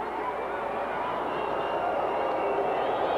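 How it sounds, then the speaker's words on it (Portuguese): Crowd applause and cheering at a professional women's volleyball match during a tie-break in the Superliga finals, Minas versus Osasco, a steady dense roar of clapping from a large arena audience with no clear breaks. "O aplauso, o reconhecimento"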